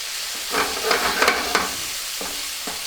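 Chicken with olives sautéing in a hot pan, a steady close sizzle and hiss with a few brief stirring scrapes and clinks in the middle, no voices.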